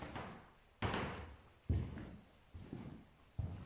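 Footsteps cross a wooden floor being checked for creaks, five or six heavy close thuds in an even walking rhythm, each with a short boomy decay and no talk over them.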